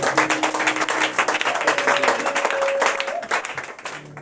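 A church congregation applauding in a dense, steady wash of clapping that runs the whole length, with voices and a sustained tone mixed in underneath.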